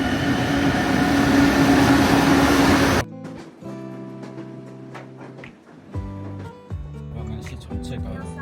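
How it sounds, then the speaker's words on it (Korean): A train bound for Luang Prabang, Laos, pulls into the station with a loud, heavy rumble for about three seconds, then gives way to quieter tonal sounds as people talk nearby. "이제 루앙프라방 가는 기차가 들어오고 있습니다."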